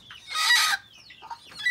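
A hen clucks near her nest in a couple of short, close squawking calls, loud and clear with little else around.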